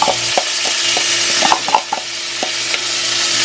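Seasoned fish frying in hot oil in a pan, a bright continuous sizzle close up, punctuated by scattered taps and scrapes of a plastic spoon stirring.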